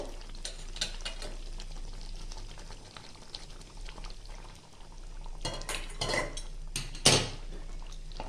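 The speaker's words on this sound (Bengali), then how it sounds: "ভালো করে নাড়িয়ে চাড়িয়ে নিতে হবে" Chicken curry is stirred in a pan, with a soft bubbling simmer broken by several sharp clinks and scrapes of a metal spoon against the pan, close and without talking.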